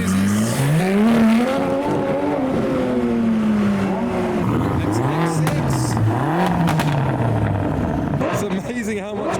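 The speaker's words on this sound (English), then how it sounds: "Aventador still revving in the background" A Lamborghini Aventador V12 supercar revs loudly at a car meet, the engine note climbing and falling in repeated surges close by, with people talking over it.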